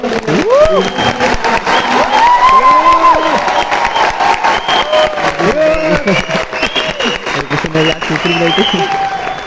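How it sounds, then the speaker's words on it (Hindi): A crowd claps loudly and steadily for several seconds, mixed with cheering and shouting voices throughout. "एक बार जोरदार तालियां चाहिए"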